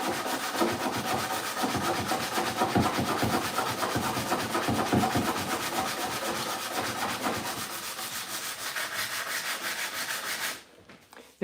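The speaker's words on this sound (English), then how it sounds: "I have to take that off with a sanding paper, a normal sanding paper" Continuous rhythmic rasping of sandpaper rubbed back and forth on rusty metal, close and steady, stopping abruptly near the end.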